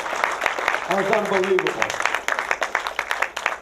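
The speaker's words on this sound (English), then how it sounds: "let's save the applause" Audience applause at a Fluoride on Trial film screening held at the Angelika Film Center, a steady patter of many hands clapping throughout, with a person talking over it.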